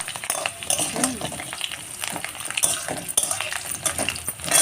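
Potatoes frying in oil already used for frying rohu fish, in a home kitchen: a close, continuous sizzle broken by repeated metallic clinks and scrapes of a spatula against the pan, no talking.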